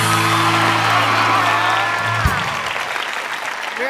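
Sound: applause welcoming guests

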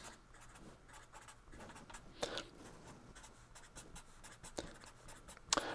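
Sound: writing out the primes up to 100

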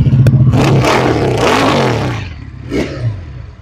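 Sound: Regal Raptor Spyder V3 motorcycle engine revving

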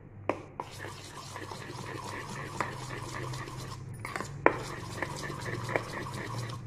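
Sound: mixing ice cream ingredients

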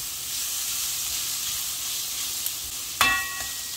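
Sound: mutton brain frying in a pan

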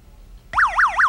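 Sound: battery-powered buzzer sounding when switch is closed

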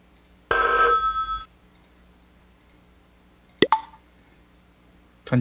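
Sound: telephone ringing in the video game Fun Hospital

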